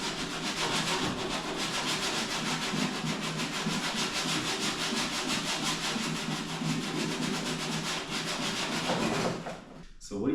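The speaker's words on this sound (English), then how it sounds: "Sanding, try to like grind out as much as we can with the spin wheel." A spin wheel sands and grinds rust in a Fox Body Mustang engine bay, giving a continuous harsh rasping whir that holds steady and close for about nine seconds before abruptly cutting out.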